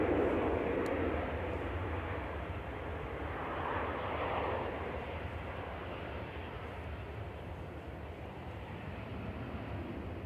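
A Ryanair Boeing 737-800 airliner from Rome at Manchester Airport gives a steady, distant jet engine roar, a broad rumbling wash that fades slightly over time.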